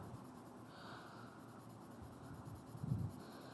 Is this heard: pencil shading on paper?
yes